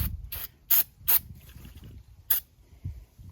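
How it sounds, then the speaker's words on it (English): Short hissing bursts of Rust-Oleum spray paint remover cleaner sprayed from a can onto a painted surface, several quick sprays in a row, close and fairly quiet. "you start spraying this"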